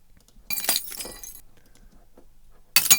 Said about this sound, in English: I was going to repeat these impact sounds, but I was going to add some glass